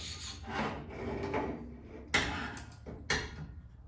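A knife is drawn over the fine side of a whetstone in a few quick gritty strokes, soft scraping rubs with two sharper scrapes near the end, close and quiet with no speech.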